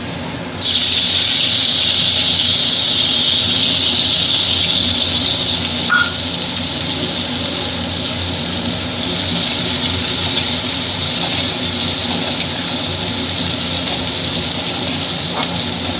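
Chopped onion frying in hot oil in a Bengali kitchen for a tangra fish curry, starting with a loud hissing sizzle as it hits the pan and then settling into a steady, close crackling fry.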